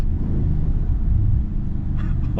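A Maserati Ghibli Trofeo in Corsa mode pulls hard, its engine a deep, steady rumble heard from inside the cabin with no letup, and a brief higher-pitched sound near the end.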